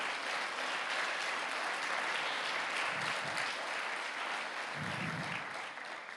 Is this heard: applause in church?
yes